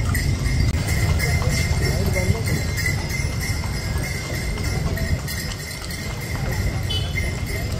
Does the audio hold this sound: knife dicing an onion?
no